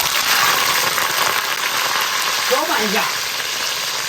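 Hot oil poured over a sauce of garlic paste, sugar, aged vinegar, sesame oil and hot pot base crackles in a loud, close, steady sizzle, with a voice speaking briefly partway through.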